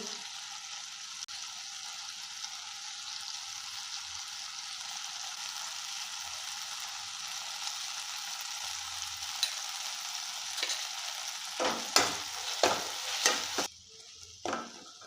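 Turmeric and chili powder fry with banana flower and potato in a pan, a soft continuous sizzle building toward a few sharp scraping stirs and knocks near the end.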